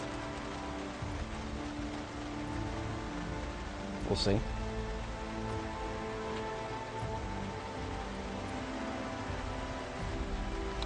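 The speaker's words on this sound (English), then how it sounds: "Whenever I hear wind, that tells me this rain is possibly a part of a rainstorm." Steady rain hisses through a rainstorm in the game Project Zomboid, a continuous even patter with a brief louder burst midway and a short spoken remark.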